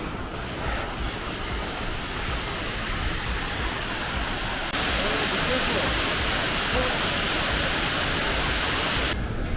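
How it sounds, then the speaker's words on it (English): A mountain waterfall on the Annapurna trail near Durali roars as steady, broadband rushing water, loud and close, growing fuller midway through without any talking. "We reach another waterfall just before Durali"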